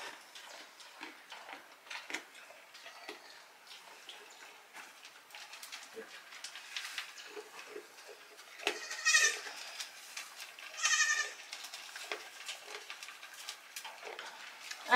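Nigerian Dwarf goats bleat a couple of times during a first hand-milking session, short nasal cries standing out over quiet background clicks and ticks, with people talking softly now and then.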